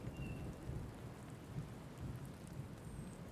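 In the video game Wylde Flowers, steady rain patters on surfaces under a low, continuous rolling rumble of thunder, with a soft thin chirp now and then.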